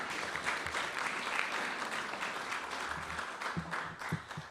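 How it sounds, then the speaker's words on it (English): Sustained applause from a luncheon audience for the head table at a National Press Club event, a dense, steady clapping that fills the room for several seconds before a few louder individual claps near the end. "You can give your applause now to the head table."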